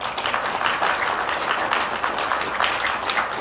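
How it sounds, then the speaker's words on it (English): Audience at the close of a Magic: The Gathering panel at MagicCon Chicago applauding steadily, a dense sustained wash of clapping throughout with no talk. "Give yourselves a round of applause."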